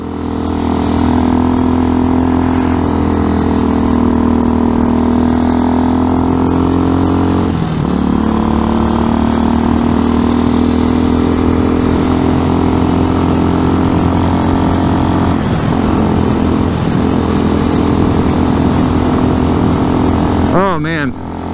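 An RPS Hawk 250 enduro motorcycle climbs a paved hill with a steady, loud single-cylinder drone held close, with only brief dips in engine note around gear changes and a short rev near the end.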